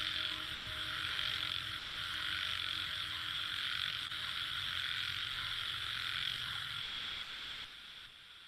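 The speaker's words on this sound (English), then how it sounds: "hoarse sound a frog makes" Frogs croak outdoors in a dense, continuous chorus of hoarse calls with a steady insect-like buzz, moderately loud and unbroken until it fades slightly at the end.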